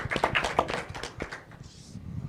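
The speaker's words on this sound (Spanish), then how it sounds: "si les damos un fuerte aplauso a todos" Scattered hand claps from an audience at a book presentation, a few sharp, irregular claps that fade quickly into a quiet room.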